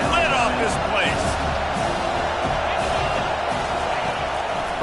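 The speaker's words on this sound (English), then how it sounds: "this crowd is tearing the lid off this place" A stadium crowd at a football game roars on third down, a loud, constant wash of cheering and whooping, with a commentator's voice running over it.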